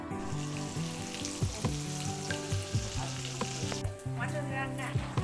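Mutton being braised and fried in a pan, a steady sizzle broken by several sharp clatters of stirring near the mic, with a faint tonal hum running underneath.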